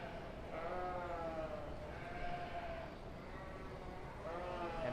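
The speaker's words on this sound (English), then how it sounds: "your champion Shropshire yearling ewe will be Logan Duttonwy" Sheep bleat repeatedly in wavering, drawn-out calls over a busy background at a county fair sheep show, with several overlapping cries from nearby animals.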